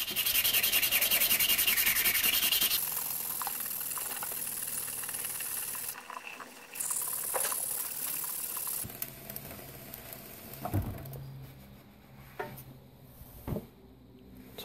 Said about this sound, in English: I'm just going to start sanding this left and right.